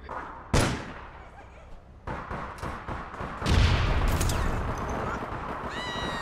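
Gunfire in the urban shooter video game APB Reloaded: a sharp single shot, then a run of quicker shots and a heavy boom with a lingering rumble, moderately close, with a few tonal game sounds near the end.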